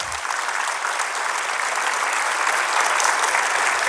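A church congregation claps loudly and continuously in a dense, sustained wash of applause that holds steady throughout.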